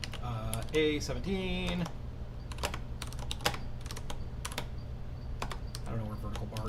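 Fast, uneven typing on a computer keyboard, with dense close key clicks and occasional bursts and pauses, while someone speaks briefly at the start.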